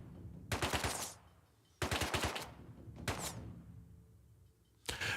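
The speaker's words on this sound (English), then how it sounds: "They're shooting at me." Gunfire aimed at the player in the video game Rust, several bursts of rapid automatic shots, each about half a second long and spaced a second or so apart, punchy and fairly close, with no talk.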